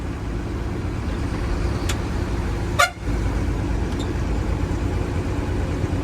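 A truck horn gives one short, sharp honk midway, with a fainter toot just before, over the constant low rumble of the truck's engine on the road.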